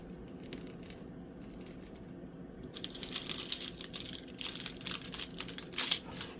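A craft cutter slices through paper during a diamond painting project, starting quiet then turning into a series of close, crisp scraping cuts.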